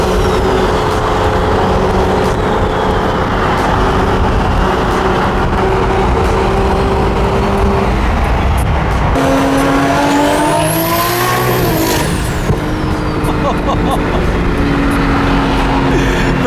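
A single-turbo BMW M3 roars loud and close at full throttle, its engine note climbing through a gear with a sustained aggressive rasp that rises and falls.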